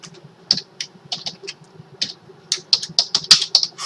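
Someone types code on a computer keyboard in a fast, uneven run of close, crisp key clicks, with a few short pauses and a quicker burst toward the end; no talking.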